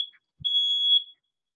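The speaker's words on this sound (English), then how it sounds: "sorry, that's the fire alarm." A fire alarm gives a short electronic chirp and then a single sustained shrill beep of about a second, loud and clear in an otherwise quiet room.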